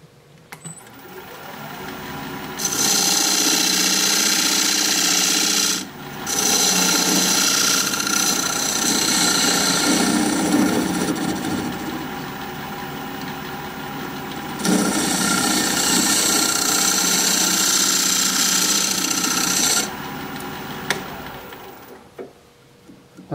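A recess tool cuts a dovetail into the edge of a pepper wood piece spinning on a lathe. Repeated loud bursts of scraping and hissing ride over the steady motor hum, broken by short pauses between passes.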